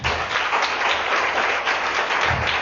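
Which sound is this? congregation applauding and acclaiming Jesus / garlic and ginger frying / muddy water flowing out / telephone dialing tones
congregation applauding and acclaiming Jesus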